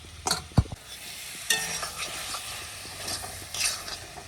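Taro-leaf curry being fried and stirred in a pan, bursts of sizzle with sharp spatula scrapes and knocks against the pan, close and irregular, no talking.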